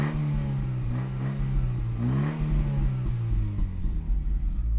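A Daewoo Nexia car with a tuned exhaust revs up close by, the engine note rising and falling in a couple of deep, loud sweeps over a steady rumbling idle.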